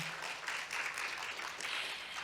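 Faint, distant applause from a seated audience at a stock-investment lecture concert, a soft, even patter of many hands sustained for a couple of seconds with no speech over it.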